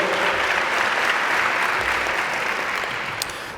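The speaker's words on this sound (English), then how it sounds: "Please give yourselves a round of applause" Sustained applause from a seated audience at a university media society launch, a thick, even clatter of clapping that holds steady and then tapers slightly toward the end.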